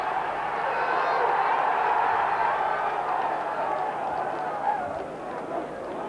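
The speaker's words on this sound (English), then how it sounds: "the crowd on this side are on their feet applauding what they thought was a goal" A 1991 FA Cup football crowd applauds and cheers from its feet after a near-goal, with dense, steady stadium roar and clapping throughout, swelling slightly in the middle before easing.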